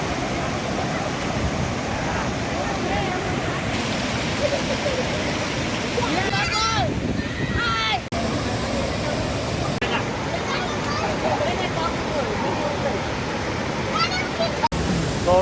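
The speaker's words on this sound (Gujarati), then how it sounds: "કેવો સરસ મજાનો ધોધ હાલ્યો જાય છે" A waterfall at the Khodiyar Mata shrine at Galdhara near Dhari, Amreli, with water pouring steadily and loudly throughout, a continuous close rushing roar with faint voices and chanting beneath it.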